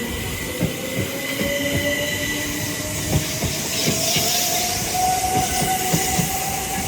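A Class 701 electric train, unit 701-001, pulls into Clapham Junction station, its wheels squealing and rails clicking in a steady rhythm, with a rising tonal whine from the traction motors heard close and loud.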